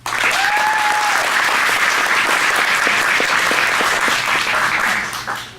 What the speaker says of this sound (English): Let's have a round of applause for all of the students in Independent English ESL.